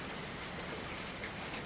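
Heavy rain pours down in Thiruvananthapuram, a dense, steady hiss of drops that holds at an even level throughout, with no voices.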